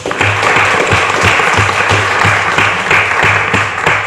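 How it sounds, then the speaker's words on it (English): A meeting room crowd at a county freeholder meeting gives a round of applause, steady dense clapping that stays loud and even throughout, with no talk over it. "Let's please give her a round of applause"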